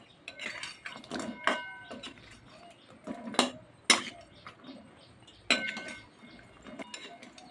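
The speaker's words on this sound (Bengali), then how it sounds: "এই যে এখন প্লেটে তুলে দিচ্ছি।" Sweet fried palm fritters, soaked in syrup, are set down onto a plate with a few sharp clinks and taps of utensil against dish, spaced irregularly and close by.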